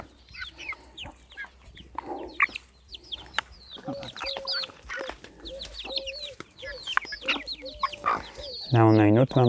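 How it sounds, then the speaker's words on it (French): A mother hen with her chicks clucks close by on a garden farm, short soft calls scattered throughout, while a person talks, and a louder harsh cackle bursts out at the end. "Là, on a une autre maman poule qui vient avec ses petits."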